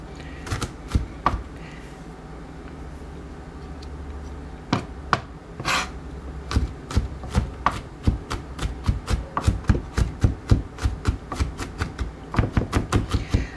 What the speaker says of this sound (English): now I'm just going to kind of rough chop till they get down a little bit